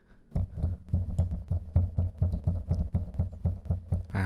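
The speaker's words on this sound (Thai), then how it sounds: "ผมจะเริ่มโดยการ เคาะตรงจานตรงนี้นะฮะ" Rapid, evenly spaced dull taps on the plate of a Presonus PD70 microphone shock mount, about four per second, thumping low and muffled through the microphone.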